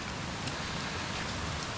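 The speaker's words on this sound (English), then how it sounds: "Still raining, but not as bad." Steady rain falls on a hike into the hills of the Lake District, a dense, even hiss of drops with no breaks and no voices.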